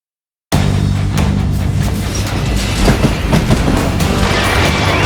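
A rickety train ride in the Western shooter Call of Juarez: Gunslinger bursts in loudly after a short silence, with rumbling wheels, clattering cars and repeated knocks and crashes continuing throughout.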